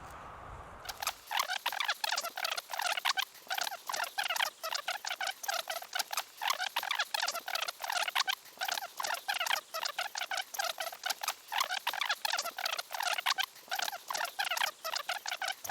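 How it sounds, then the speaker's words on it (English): Rain begins falling outdoors at a carp fishing spot, a dense, steady patter of drops striking nearby surfaces that runs continuously and fairly loud from the first second onward, with no voices. "it's just started to rain"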